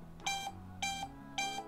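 A replica Apple Watch 6 (HW19) smartwatch sounds keypad dialing beeps: three short bright electronic tones, evenly spaced about half a second apart, close and clear with no talking.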